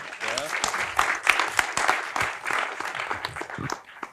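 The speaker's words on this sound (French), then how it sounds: "Elie Wajman, vous pouvez l'applaudir" Audience applause for guest Elie Wajman at a French film school evening on filming violence, a brief burst of dense clapping with voices talking over it throughout.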